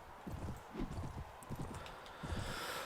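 Horse hooves in the Mount & Blade Warband video game, a quick run of soft, irregular thuds close by, fairly faint, with no talk.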